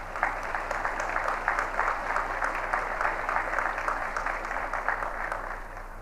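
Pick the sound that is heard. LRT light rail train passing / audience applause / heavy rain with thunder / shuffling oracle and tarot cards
audience applause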